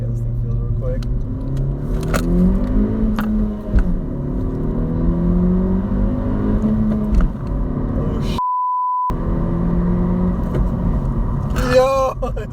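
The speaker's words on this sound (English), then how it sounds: "I think you can kind of hear some turbo boost a little bit." A 2019 Honda Civic Si Coupe accelerates with a steady rising engine drone and faint turbo whir, a beep near the end, with someone talking over it.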